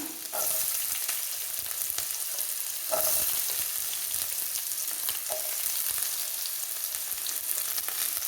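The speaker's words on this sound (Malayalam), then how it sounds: "ഇഞ്ചിയും വെളുത്തുള്ളിയും നമ്മൾ അരിഞ്ഞ് വെച്ചിരുന്നത് ഇനി നമുക്ക് കൊച്ചുള്ളി ഇട്ട് കൊടുക്കാം." Small onions sizzle and fry in a pan with chopped ginger and garlic for pork perattu, a steady close crackle broken by occasional stirring scrapes.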